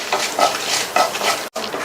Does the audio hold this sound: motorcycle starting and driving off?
no